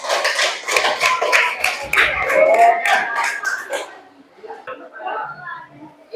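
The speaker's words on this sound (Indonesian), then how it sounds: "Mari kita beri aplaus untuk 3 bersama." Classroom applause for three winners, with a burst of many hands clapping close by for about four seconds, then fading into scattered claps and murmuring voices.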